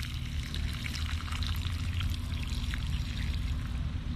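Water mixed with a capful of Hydretain pours steadily into a plant pot, a continuous close splashing and gurgling stream lasting the whole clip without talking.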